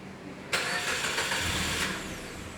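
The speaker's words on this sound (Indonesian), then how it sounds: "Oke, langkah pertama kita lakukan start." A Suzuki Ertiga's engine cranks and catches during a workshop service session, with a sudden burst of starter noise that settles into a steady, fairly loud idle heard close by.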